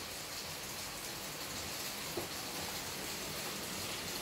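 Steady rain falls during a thunderstorm, a quiet, even hiss of drops throughout with no thunder or voices standing out.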